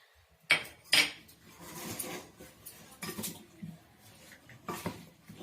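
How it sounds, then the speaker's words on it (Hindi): Metal spoon clanks and scrapes against a cooking pot as raw meat is mixed with salt for a Bihari-style meat dish, two sharp knocks early then softer stirring and scraping, close and moderately loud. "तो ई मिला रहल छी नून दऽ कऽ।"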